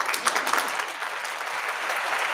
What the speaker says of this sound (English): Big round of applause to my man, City the Great, for being on the show.